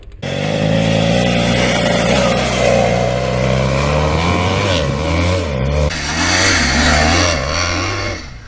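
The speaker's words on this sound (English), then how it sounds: "Even the four-wheel drive was having some difficulties." A four-wheel drive vehicle strains up a steep sand dune on a Simpson Desert trip, its engine revving loudly and continuously, pitch rising and falling as it labours, with a brief shift in tone near the end.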